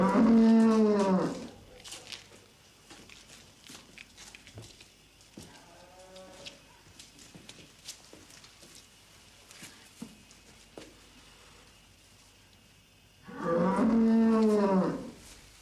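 A big, roomy cow in a veterinary farm setting gives two loud, drawn-out moos, one at the start and one near the end, with quieter rustling, shuffling and faint background sounds between them.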